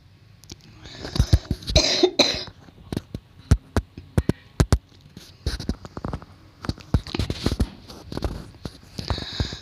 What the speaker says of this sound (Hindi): बहुत ज़्यादा मुझे खांसी आ रही